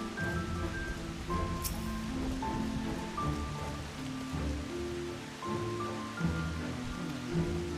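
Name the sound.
rain falling in video game Final Fantasy XIV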